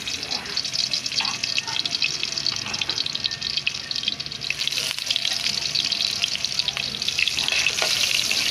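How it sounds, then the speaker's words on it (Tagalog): Garlic frying in a hot pan for chicken adobo makes a constant, close, fairly loud sizzle with stirring and scraping, while a voice speaks at times. "Ilagay na natin yung bawang."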